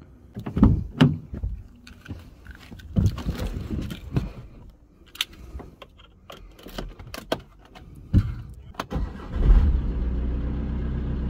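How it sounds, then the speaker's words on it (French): A car engine is started with a JF Ego 6000 A jump starter booster. Keys jangle and a door clicks amid quiet handling noises, then the engine cranks and catches, settling into a steady, close idle. "On va faire un test de démarrage maintenant."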